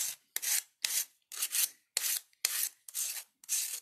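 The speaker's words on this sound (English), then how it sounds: "I'm just going to hand file this and just sand it" Hand file and sandpaper rubbing the sharp edges of a small wooden Valentine heart ornament, eight close rasping strokes in a steady back-and-forth rhythm, each a short bright scrape with brief pauses between, no talking.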